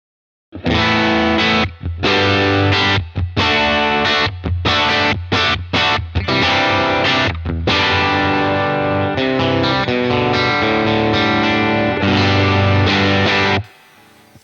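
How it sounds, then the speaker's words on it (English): An electric guitar plays through a UAFX Dream '65 Reverb amp pedal set with drive and reverb, giving loud, distorted, ringing chords and notes with gaps between strums, then stopping abruptly near the end. "as soon as you put any drive in this amp, the reverb, even at low levels, gets really overpowering"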